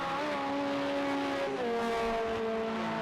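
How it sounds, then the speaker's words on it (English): A Nissan V8 race car engine roars at Daytona during a 24-hour endurance race, a loud sustained drone with steady tonal harmonics that dip in pitch as the car shifts or passes, with no talk over it. "The roaring Nissan V8."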